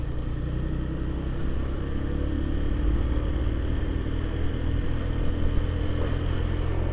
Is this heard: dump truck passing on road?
yes